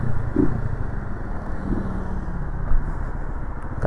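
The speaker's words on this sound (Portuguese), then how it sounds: "Deixa eu ver o que que tá fazendo barulho na frente dessa moto" A Suzuki YES 125cc motorcycle engine idling and rumbling up close, steady and fairly loud, with slight surges, a noise from the front of the bike and distant road noise behind it.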